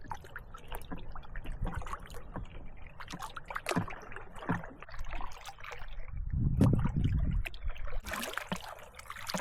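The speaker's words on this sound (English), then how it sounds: "We're paddling back to camp." A canoe is paddled across Cranberry Lake with faint, irregular paddle splashes and water trickling against the hull, heard up close in a quiet setting.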